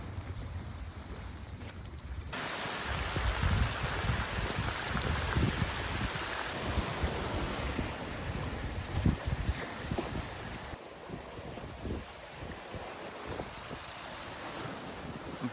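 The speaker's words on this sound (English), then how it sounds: "we found ourselves battling through a pretty intense tropical storm" Heavy tropical rainstorm in the Laos jungle, a dense, continuous wash of rain and wind noise that roars steadily throughout with no voices.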